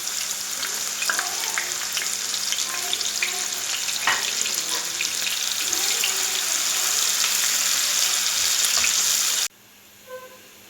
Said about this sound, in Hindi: 1 कप मैंने ऑयल लिया है, इसमें प्याज ऐड करूँगी।